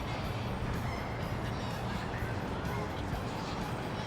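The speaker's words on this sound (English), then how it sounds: "As you can hear, we now have the crowd, we've got some birds." Crowd murmur and birdsong fill the ambience of a GS Pro golf simulator course as a steady, dense wash of sound with no distinct events.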